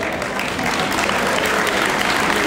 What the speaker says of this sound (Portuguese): Uma salva de palmas para eles.